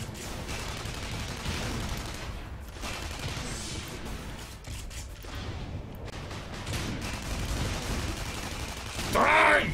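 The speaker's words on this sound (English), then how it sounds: "Right, let's have a different gun. Assault rifle." Assault rifle fire in the online shooter Tribes Ascend comes as sustained rapid bursts mixed with game effects, loud and continuous, ending in a sharp burst of brighter noise.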